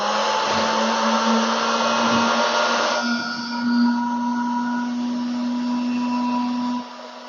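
A Virutex AG98F portable edgebander running while applying edge banding to a small wood sample, a loud steady whirring hum with a harsher hiss in the first few seconds, close by, then cutting off abruptly near the end.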